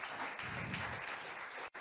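Audience applause at a French agricultural forum after a film screening, a brief, fairly faint wash of steady clapping heard from a distance that drops out sharply just before the end.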